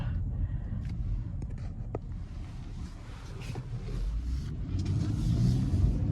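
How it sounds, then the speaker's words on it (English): The V6 of a 2020 Acura TLX SH-AWD revs under acceleration as heard from inside the cabin, a low engine rumble that swells toward the end, mixed with road and wind noise. "let's just appreciate this V6. Sounds so good."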